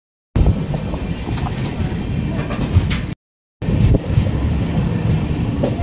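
A passenger train rolls along on the way to Panvel station, heard from on board as a loud, steady rumble and rattle, broken once by a brief silence before resuming.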